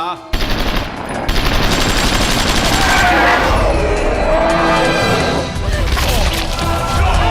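Rapid bursts of automatic gunfire in a movie rattle continuously, loud and close, with crashing impacts mixed into the dense barrage.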